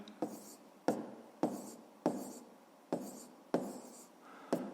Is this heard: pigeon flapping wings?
no